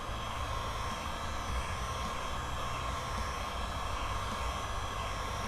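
A handheld heat gun on its low setting blows a steady, even rush of hot air while being passed slowly back and forth over clamped plastic to reshape it. The noise is constant and close, with no talking.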